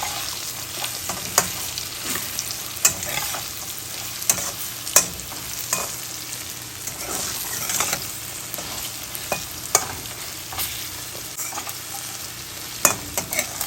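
Taro stolons fry in oil in a pan with cumin, dried chilli and coriander powder, giving a steady close sizzle with repeated sharp scrapes and clacks of stirring throughout.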